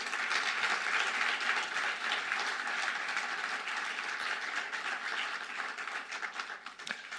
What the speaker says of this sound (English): and let's do that through applause.